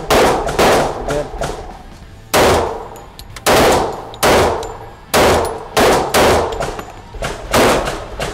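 A RIA BBR 3.10 pistol fires a string of sharp, loud, close-range shots in uneven quick bursts, each crack ringing out briefly before the next.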